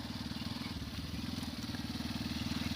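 Small engine of a child's motorcycle running steadily during a ride, a faint continuous low buzzing drone with a slightly pulsing rhythm and no talk over it.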